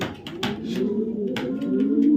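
Racing pigeons coo softly and steadily at close range, a low continuous burbling layered with a few brief rustles and wing shuffles, with no talking.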